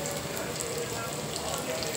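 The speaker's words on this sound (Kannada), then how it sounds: "ಈರುಳ್ಳಿ ಚೆಂದಾಗಿ ಬೇಯಿಸ್ಕೊಳ್ತೀನಿ." Onions and lengthwise-cut long green chillies fry in a pan with a steady, dense sizzle close by, continuous and even for the whole moment.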